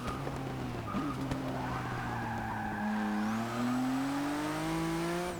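A race car in Forza Motorsport 6 drives hard around a track, engine revving and shifting through gears while tires squeal and skid through corners, steady and up close.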